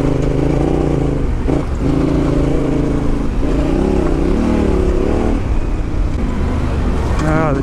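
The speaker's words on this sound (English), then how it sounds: "The T7 is such a blast to ride through this sort of stuff. Awesome bike." Engine of an adventure motorcycle, a T7, being ridden, a loud constant drone with rising and falling revs and heavy wind noise, close to the rider, with talking over it.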